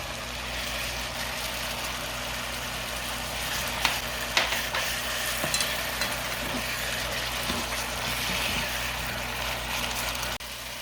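Pork belly japchae with glass noodles, water and seasoning sizzles steadily as it is stir-fried in a hot pan, making a continuous hiss with a few soft clinks and stirring sounds.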